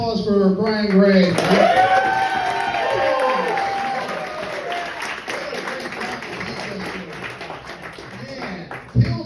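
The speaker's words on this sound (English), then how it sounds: "Let's have another round of applause for Brian Gray." Audience at a comedy show applauds comedian Brian Gray, with clapping and crowd noise under talk and music, gradually thinning out before a sharp knock at the end.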